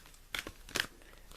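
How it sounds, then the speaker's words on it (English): Oracle cards being shuffled by hand, two quick crisp riffling bursts close and faint in a quiet room. "Shuffling again."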